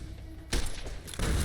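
Explosions in the video game Fallout: New Vegas, two sudden loud booming blasts about half a second apart, each followed by a dense rumbling crackle, heard over quieter game ambience.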